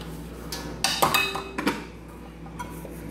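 Metal pots and pans clank and clink in a few sharp bursts close by in a home kitchen, with quieter gaps between the knocks.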